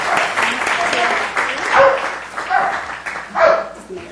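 Police dogs barking during a city council meeting in Newport Beach, with yips and barks mixed into applause and crowd noise in a large room while people talk.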